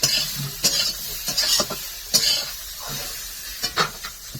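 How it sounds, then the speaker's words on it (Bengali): Prawns fry in a pan, with a close sizzle broken by sharp stirring and scraping knocks against the cookware. "চিংড়ি মাছটা লাস্টে ভেজে নিচ্ছি।"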